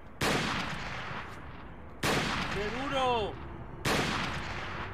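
Gunfire from the Resident Evil 4 video game, played with the Life In Hell mod: three loud, sharp shots spaced about two seconds apart, each with a long ringing tail. A short synthetic sweeping tone sounds between the second and third shots, and a man briefly exclaims.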